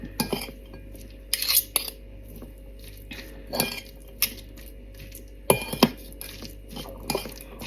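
Spoon stirring mayonnaise into a bread spread filling, soft clinks against the bowl and wet squishing in irregular bursts, close and fairly quiet over a low hum.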